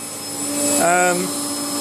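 Whirlpool 6th Sense AWO 3671 washing machine spinning at 1450 revs after a repair, giving a close, steady motor whine whose pitch swells and wavers around the middle of the short stretch.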